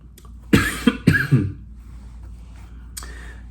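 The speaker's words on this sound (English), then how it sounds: "I'm coughing." A short burst of several harsh coughs close up, followed by quiet and a faint breathy noise.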